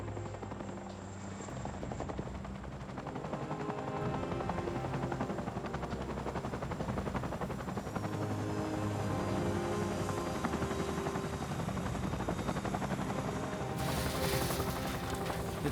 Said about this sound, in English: The most dangerous maneuver we do is the dust landing.